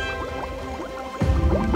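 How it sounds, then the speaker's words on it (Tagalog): Watery gurgles and bubbling plops repeat, followed by a sudden louder splash and churning water as a family of ducks dives underwater, close and fairly loud. "ang buong pamilya ng pato ay sumisid sa ilalim ng tubig"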